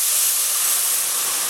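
Steam hisses steadily and loudly as water hits a hot pan of chicken livers, a broad continuous sizzle with no talking.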